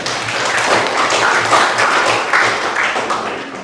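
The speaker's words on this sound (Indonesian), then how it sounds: "Tepuk tangan." A classroom of teacher trainees claps for a group after its score is announced, a steady, fairly loud patter of many hands with a faint low hum beneath and no talk.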